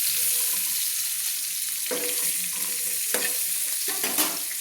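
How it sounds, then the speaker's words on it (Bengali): Pointed gourd (potol) pieces frying in oil for a prawn curry, a constant loud sizzle broken by several sharp scraping strokes of a spatula stirring the pan, with no talking. "আমি লাল লাল করে পটলগুলো ভেজে নেব"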